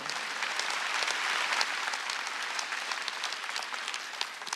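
Steady, dense applause from a church congregation at a Sunday worship service, sustained and even throughout with no voices over it.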